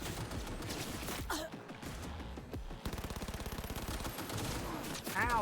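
Gunfire in the video game Cyberpunk: a rapid, evenly spaced automatic burst midway, with scattered shots and chaotic combat sounds around it, fairly close and loud.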